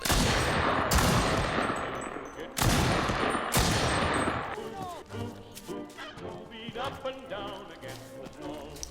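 Farquhar-Hill rifle gunfire in the video game Enlisted: a few loud, sharp shots in the first half, spaced about a second apart, followed by a busier stretch of battlefield effects and clatter.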